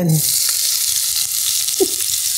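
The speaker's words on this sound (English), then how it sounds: "let's put the onions in" Onions hit a hot Visions glass pot and sizzle with a loud, steady hiss of frying that carries on throughout, close up.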